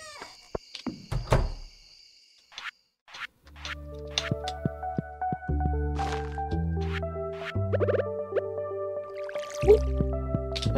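Game-style sound effects as a cactus is watered in Stardew Valley: short watery drips and plinks over tonal, stepped background music, with small taps and a brief pause near the start.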